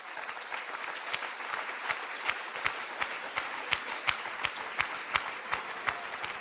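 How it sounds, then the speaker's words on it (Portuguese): Steady applause from a church congregation during a Lord's Supper service, dense crowd clapping with sharper individual claps standing out, moderate level throughout and no speech over it. "Vamos dar uma salva de palmas para o nosso Deus?"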